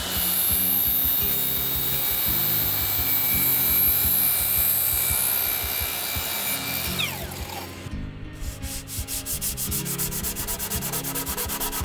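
A wooden frame piece for a top-hung sliding door frame is cut diagonally, giving steady, close rasping strokes that stop near the end, followed by a brief different rhythmic scraping.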